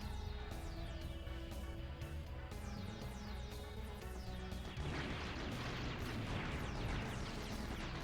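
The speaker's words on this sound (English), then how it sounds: "There we go, and a massive explosion ensues." A massive explosion in the Blaster Master video game erupts as a dense, sustained roar of crashing blasts that thickens and grows louder midway, layered over ongoing sparking bursts and chiptune-like tones with no talk.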